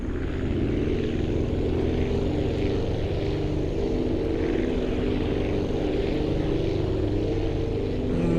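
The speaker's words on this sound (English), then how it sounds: "The harmony of those 4 engines is beautiful." Four propeller engines drone steadily and loudly in a big aircraft in flight in the flight-building game Aviassembly, a dense, even roar that holds without a break through the whole stretch, with no talk.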